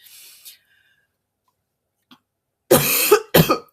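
Two sharp, loud coughs close to the microphone, one after the other, preceded by a faint breathy noise and near silence.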